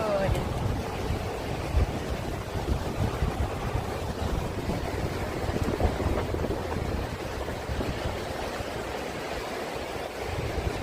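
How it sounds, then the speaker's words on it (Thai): A powerful waterfall on the Dalälven river at Laxön in Sweden roars steadily and loudly, a continuous broadband rush of water with some wind buffeting the microphone. "เสียงน้ำไหลนะคะ น้ำตกจะรุนแรงมาก ๆ เลยค่ะ"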